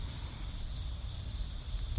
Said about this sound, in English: listening to the crickets,